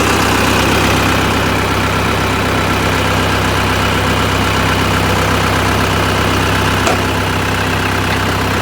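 Loud, steady idling of a tractor engine fills the whole stretch, a dense low rumble with a faint knock near the end.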